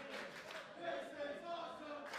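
A crowd cheers and roars continuously at a wrestling-style main event, a dense wash of voices with rising and falling shouts, fairly faint and distant throughout.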